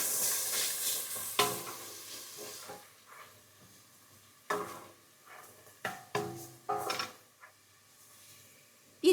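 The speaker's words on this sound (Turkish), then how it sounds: "Küçük küçük doğradığımız bir soğanı yumuşayana kadar kavuralım." Finely chopped onion frying in melted butter in a pot, a soft sizzle with a sharp hiss at the start and several clattering stirs of a spoon against the pot.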